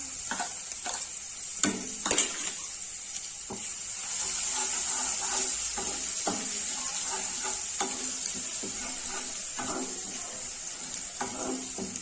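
Crushed garlic fries in hot oil for pav bhaji, giving a steady sizzle with a high hiss throughout. Frequent clattering spoon stirs and scrapes break in close by, and no one speaks.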